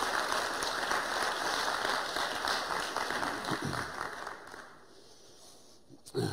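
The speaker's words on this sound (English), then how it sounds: "so please give him a round of applause" An academic conference audience applauds an award winner at the ICAPS 2018 awards session, sustained even clapping from a full room that gradually tapers off, ending with a brief thump near the close.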